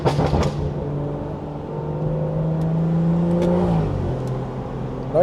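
A BMW 340i with a B58 turbocharged engine drones steadily while driving, the engine pitch rising slowly under light revving and then dropping, heard from inside the car with a continuous road and motor rumble.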